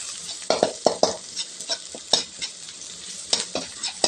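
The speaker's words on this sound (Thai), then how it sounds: "น้ำมันร้อนแล้วก็ใส่พริก พริกผัดพริกแกงลงไปผัดให้หอมเลยครับ" Chili curry paste stir-fried in hot oil in a pan, with a continuous close sizzle punctuated by rhythmic scraping strokes of the spatula, loud and without talk.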